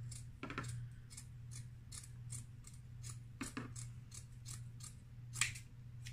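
Scissors cutting material to length for a DIY moss pole, a series of crisp snips at a steady pace close up over a constant low hum, no talking.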